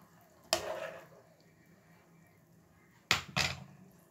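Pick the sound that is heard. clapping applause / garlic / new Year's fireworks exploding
garlic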